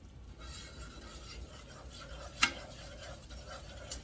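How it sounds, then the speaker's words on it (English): Roux for Creole gumbo being stirred in a pot, a soft steady scraping and faint sizzle throughout, with one sharper clink midway and another near the end. "we're going to have to stir until this roux is a beautiful chocolate"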